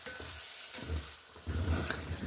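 Chili meat stirring and sizzling in a pan, a steady frying hiss with scraping strokes of the spoon that swell and fade in uneven waves, close and moderately quiet, with no voices.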